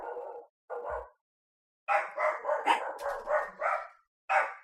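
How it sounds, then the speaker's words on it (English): A dog barks repeatedly indoors, a run of close, loud woofs in uneven rhythm with brief pauses between bursts. "Why is Kai barking, dude?"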